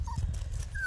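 Eleven-week-old Miniature Pinscher puppies give short, thin whimpering yips, close by, over a low rumble of handling noise outdoors with lingering snow.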